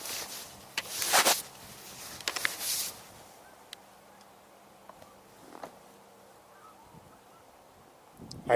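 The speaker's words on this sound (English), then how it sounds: "I believe I am hearing occasionally a tundra swan." Tundra swan calls sound now and then at a wetland refuge in November, faint and distant honking notes scattered among other waterfowl, with a louder burst near the start.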